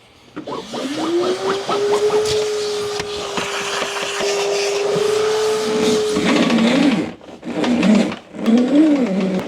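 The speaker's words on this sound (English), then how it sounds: "One of the best tools I have in my garage is this vacuum" A garage vacuum motor whines up to a steady high hum, runs continuously, then cuts off and restarts in short bursts as the suction changes.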